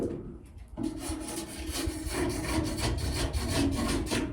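Spray foam insulation on a narrowboat is trimmed back flush with a blade, giving close, repeated rasping and scraping strokes in an uneven rhythm after a brief quiet start.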